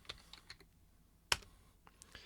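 Keystrokes on a computer keyboard at a command line, a sparse run of separate clicks with one sharper, louder key hit midway, close and fairly quiet, no talking.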